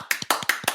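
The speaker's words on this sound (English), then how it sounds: "And then you have like an applause clap, which gives you the most dynamics." Five sharp, rapid hand claps, applause-style with open hands, close and bright in an even rhythm.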